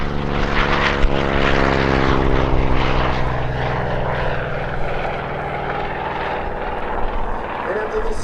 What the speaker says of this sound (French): Le premier appareil que vous voyez, le Corsair, il est largement considéré comme le chasseur le plus performant de tous ceux basés sur porte-avions pendant la Seconde Guerre mondiale.